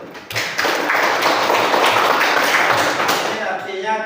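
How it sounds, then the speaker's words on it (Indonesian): A classroom of students claps their hands together in a dense, steady burst lasting a few seconds, close and fairly loud, then trailing off as a voice starts speaking. "tepuk tangan dulu"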